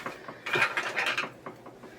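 Sewing machine back-stitching through fabric, a brief close mechanical whirr of rapid needle clatter lasting under a second, with faint ticks of the mechanism before and after.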